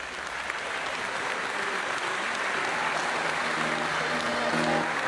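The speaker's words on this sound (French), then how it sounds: "On peut les applaudir s'il vous plaît." An audience at a sports awards evening in Tahiti applauds a women's basketball team arriving, a steady, even wash of crowd clapping that swells slightly toward the end.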